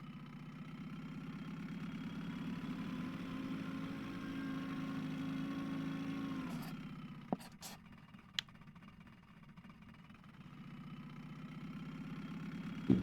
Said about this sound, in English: I'm gonna cut the engine off now